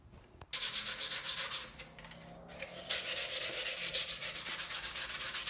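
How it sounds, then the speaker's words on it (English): Hand sanding a DIY Harley lower speaker pod, close rhythmic back-and-forth rubbing strokes in two bursts separated by a short pause, loud and steady with no talking. "So this will take a little light sanding on it."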